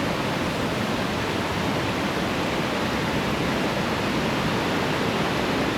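Skradinski Buk waterfalls in Krka National Park, a loud, steady, broadband rush of falling water with no breaks, heard alone without voices.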